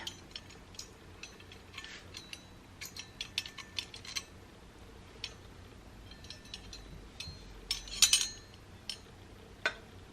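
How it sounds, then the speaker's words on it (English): A screw is worked loose from an accessories organizer with small clicking, ratcheting taps, faint and close, scattered irregularly with a few sharper clicks near the end. "I had to remove this screw right here"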